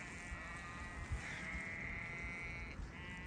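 Sheep grazing in grassland, with a faint, drawn-out bleat rising over soft background rustle and low rumble, quiet and somewhat distant.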